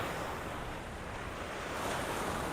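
Sea waves at the shore roll in as a continuous broadband wash with wind buffeting the microphone, steady and moderately loud with no voices.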